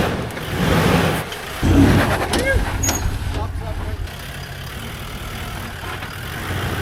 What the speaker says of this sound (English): now drive off, use your handbrake